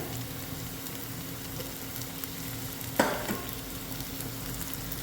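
Ginger and green chilies frying in a pan for pork curry, a quiet, even sizzle with one sharp clatter of a utensil midway, and no one talking.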